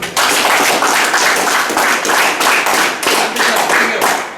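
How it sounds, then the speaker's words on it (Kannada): An audience at a school event honouring students' yoga and sports achievements claps loudly and steadily. The dense, close clapping swells in a rough rhythm throughout, with no talking. "ಅವ್ರಿಗೆ ನೀವೊಂದು ಜೋರ ಚಪ್ಪಾಳೆ ಕೊಡಿ"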